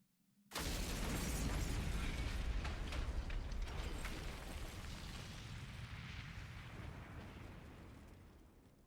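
A grenade explosion from The Hundred Line -Last Defense Academ- video game bursts suddenly and loudly, then rumbles in a long, dense roar that slowly fades over several seconds.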